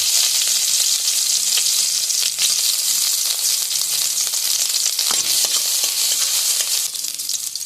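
Chopped garlic frying in white oil in a kadai at the start of a soup for Darjeeling-style chicken momos, a loud, close, steady sizzle with brief stirring scrapes near the middle and no talking.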